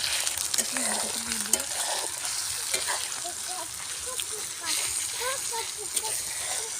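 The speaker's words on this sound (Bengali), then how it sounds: "মশলাটাকে এখন নেড়ে দেখি" Masala frying in a pan on an outdoor cooking stove at a mini picnic, a steady close sizzle with scraping stirs, while a voice talks over it and birds chirp faintly.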